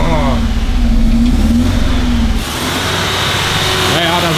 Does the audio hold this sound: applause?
no